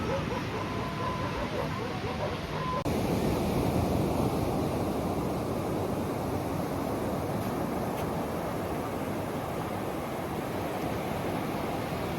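Waves wash steadily onto an almost empty beach in Lombok at sunset, a continuous loud roar of surf mixed with wind buffeting the microphone.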